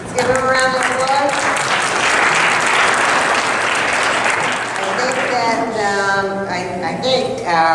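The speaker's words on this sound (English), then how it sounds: "Let's give him a round of applause." Sustained applause from an audience at a town meeting in Meriden, with steady dense clapping throughout and voices mixed in near the start and end.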